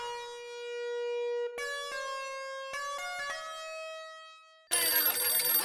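A mobile phone ringtone plays a steady synthesized melody of clear stepped tones for several seconds, then abruptly gives way to broadband noise in an indoor comedy scene.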